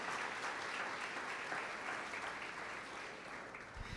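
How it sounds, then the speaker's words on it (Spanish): Church congregation applauds in a continuous, even patter of many hands, fairly faint and distant, lasting the full four seconds without speech. "Dale un fuerte aplauso, dale un aplauso."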